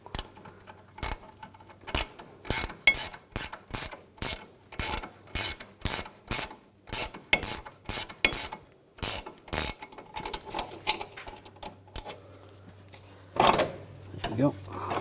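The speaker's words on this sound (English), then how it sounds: "Now using a puller, as we tighten this down, we're going to separate the tie rod from the knuckle." A puller being tightened with a ratchet to split the tie rod from the steering knuckle on a 2000-2006 BMW X5 3.0L, loud close ratcheting clicks in a steady repeated rhythm, then a few scraping mechanical knocks.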